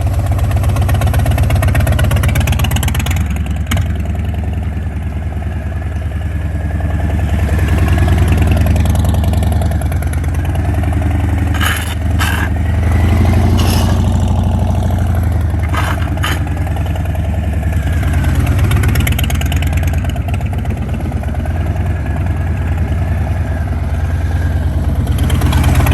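Motorcycle engine runs continuously and loud while riding, a steady mid-pitched drone that swells and eases gently with throttle, with a few brief clicks and rattles along the way.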